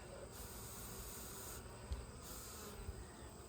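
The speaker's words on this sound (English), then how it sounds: "There, I've cleared some of the bees out of the way." Honeybees hum in a low, even drone from an open hive during an inspection, faint and continuous with a couple of soft bumps near the hive.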